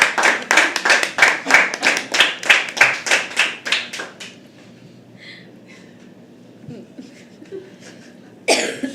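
At a poetry open mic, a small audience claps in a slow, rhythmic unison beat of about a dozen strong claps, then falls quiet with faint rustles and a cough before one brief burst returns.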